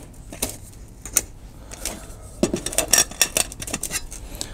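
Nested metal camping cookware from a Fire Maple FMC-F4 family set being pulled apart, with a smaller pot lifted out of a larger one. Several sharp clinks and rattles come close up, sparse at first and then a quick cluster of clatters.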